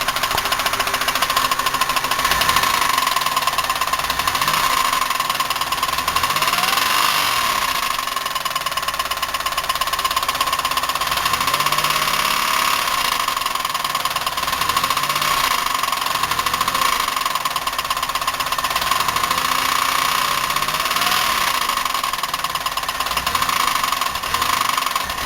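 A Buick 3800 V6 idles roughly with its valve covers off, a loud, steady mechanical ticking and knocking in a fast, even rhythm over a constant engine drone.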